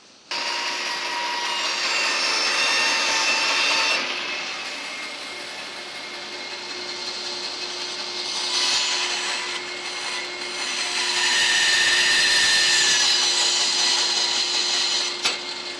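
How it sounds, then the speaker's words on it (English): A bandsaw cuts through a stack of hardwood cams for a wooden Moxon vise, a steady whine with a constant hum that swells louder as the blade bites deeper, with no voices. "then we can cut our cams out on the bandsaw, all of them together"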